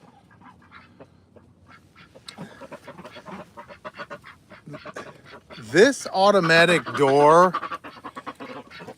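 Backyard ducks at feeding time quack in loud, raspy bursts close by, bunched near the end, after someone talks over a quieter stretch of faint rustling and scattered calls.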